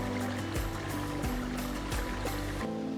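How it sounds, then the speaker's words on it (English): Steady running water of a small stream in a sinkhole in Lake County, Florida, a continuous close rushing with a few brief knocks and splashes along the way. "I thought I heard running water somewhere"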